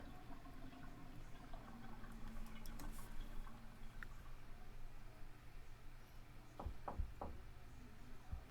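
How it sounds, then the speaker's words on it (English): A few sharp knocks on a door, near the end, heard over a steady background hum. "Someone knocking on our door."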